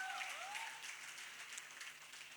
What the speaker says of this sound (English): I'd like to hear a round of applause for a man.